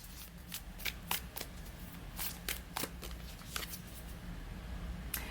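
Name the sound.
shuffling unicorn oracle cards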